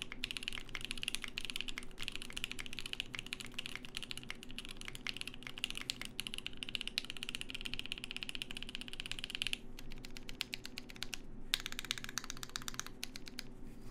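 Someone types steadily on a soldered Voice65 mechanical keyboard with a PE plate, giving a quiet, rapid run of muted clacks that pauses briefly twice and carries on, with no speech.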